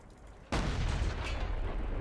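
A single tank cannon shot in World of Tanks, fired from a Panzer IV, lands as one sudden loud boom that rolls into a sustained rumbling roar after a quiet start.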